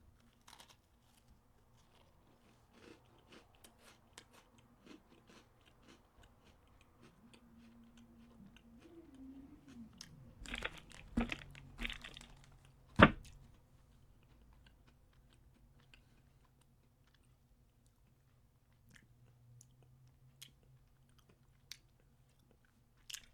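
Crunchy cinnamon bun flavored Korean Oreo cookies being chewed close up, a cluster of crisp bites and crunches in the middle, then quieter intermittent chewing, with no talking.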